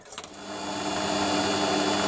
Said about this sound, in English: We'll just quickly centre drill this.